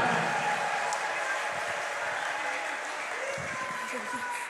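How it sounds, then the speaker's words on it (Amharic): A church congregation applauds for Jesus, a dense steady roar of clapping from a crowd that fades out at the end, with voices mixed in. "እስቲ እልልታችሁን ጭብጨባችሁን ይገባዋል"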